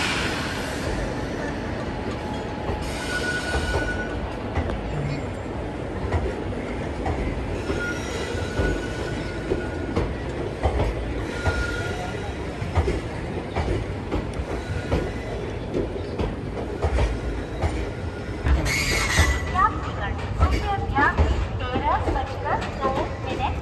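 An Ernakulam–KSR Bangalore Intercity SF Express hauled by a WAP4 locomotive, running on Indian track with a steady rumble of wheels and coach noise and occasional higher squeals, continuous and fairly loud, with a voice speaking at times.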